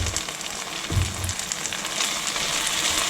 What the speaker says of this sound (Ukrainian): Перемішую та смажую.